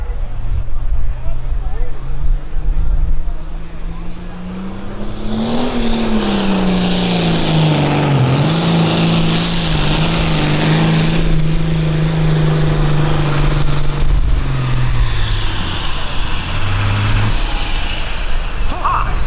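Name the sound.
pulling tractor engine at a county fair tractor pull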